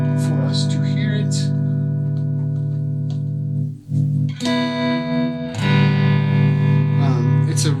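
Electric guitar through a Bogner Duende 15-watt amp head with its tremolo engaged, sustained chords pulsing in volume, with a brief break before louder ringing chords return.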